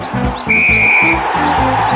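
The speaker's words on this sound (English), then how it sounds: "The referee Wolf blew his whistle," A sharp referee whistle blast sounds for about a second, shrill and loud, over rhythmic music with a steady beat.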